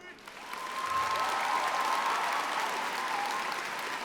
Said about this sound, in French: on compte sur vous pour leur faire un tonnerre d'applaudissements